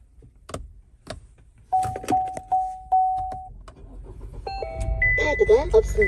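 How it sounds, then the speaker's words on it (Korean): A small SUV is started with a smart key: a series of electronic chime beeps rings out, followed by the engine cranking and settling into a steady idle up close. "시동 한번 켜보도록 하겠습니다 스마트키"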